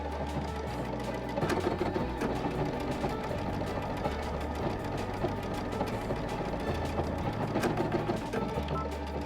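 A Baby Lock Destiny sewing machine stitches steadily and loudly up close, its fast mechanical needle chatter running continuously with a low motor hum and slight shifts in pitch.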